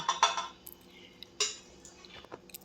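Pieces of fresh turmeric, slit green chillies and finely cut ginger tipped into a large pickling pot, making a few sharp clinks and knocks followed by quieter scattered taps.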